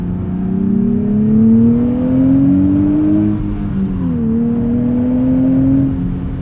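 A Nissan Z engine revs up steadily through a long rising pull, eases off briefly, then climbs again, heard close and loud with no talking over it.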